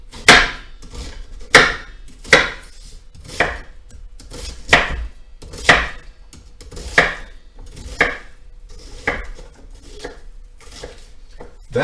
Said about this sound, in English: Always concentrate when cutting with a knife this sharp.